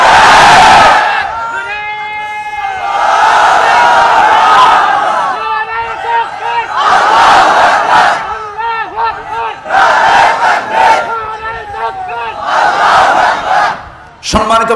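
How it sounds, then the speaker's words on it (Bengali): A large crowd at a Ramadan religious gathering loudly chants the slogan Allahu Akbar, Nara-e-Takbir in repeated call-and-response bursts, roaring voices rising and falling in rhythm. "আল্লাহু আকবার, নারায়ে তাকবীর এই স্লোগান কোন দলের স্লোগান নয়"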